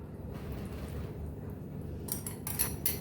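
Wet and dry ingredients for an eggless custard cake being mixed in a bowl, with soft scraping and a few sharper utensil clinks toward the end, close and fairly quiet.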